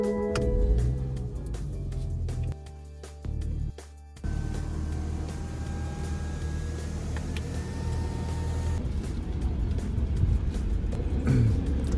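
A car interior on a rainy drive to a mall carries a steady low road rumble and hiss, with a brief dip partway through, faint ticking and no voices.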